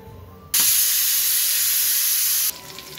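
Rice-flour coated eggplant slices drop into hot oil, setting off a sudden loud, bright sizzle that holds steady for about two seconds before cutting back to a quieter hiss; no one speaks.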